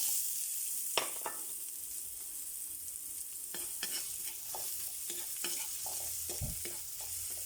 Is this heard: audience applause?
no